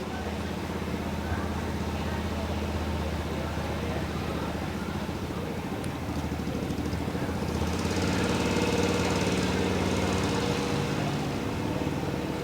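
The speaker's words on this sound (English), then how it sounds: "borrows some motorcycle technology for the engine, I believe, and away it goes" A small vintage car with a motorcycle-derived engine at a concours d'elegance, running steadily and rumbling as it pulls away, engine note rising slightly toward the end amid outdoor background noise.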